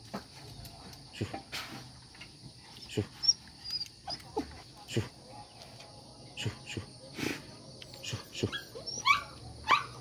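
Hunting dogs bark and whimper intermittently at a moderate distance, scattered short yelps over a steady background of insects chirping outdoors.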